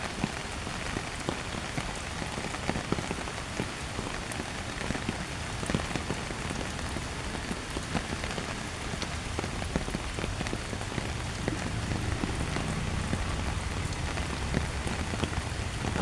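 Steady rain patters densely on surfaces on a Monday morning, a constant close hiss with scattered sharper drops throughout and no voices.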